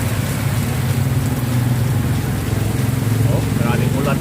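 Heavy rain falls steadily in the rainy season, a loud, unbroken hiss of drops drumming on surfaces throughout, with a low rumble underneath and faint voices toward the end.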